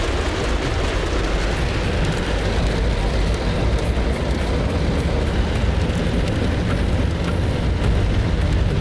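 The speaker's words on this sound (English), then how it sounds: "it suddenly started raining heavily, and this is very common in Eritrea." Heavy rain pours in an Eritrean village, a dense, unbroken roaring wash of noise that stays loud and constant throughout, with no voices.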